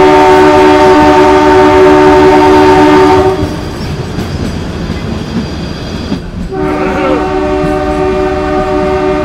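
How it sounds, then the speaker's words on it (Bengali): The Kalka–Shimla toy train, the Shivalik Express, pulls away at dawn with a loud, sustained horn blast, then a rumbling, clattering run of wheels before the horn sounds again near the end. "আর টয় ট্রেন ছেড়ে দিল"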